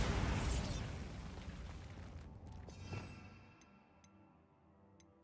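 Bombarda spell explosion in Hogwarts Legacy, a loud booming blast that fades into a long rumbling decay with a few faint ticks at the end.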